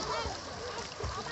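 Water splashes as someone swims during a swimming lesson, a brief burst of close, noisy sloshing with a voice faintly mixed in underneath.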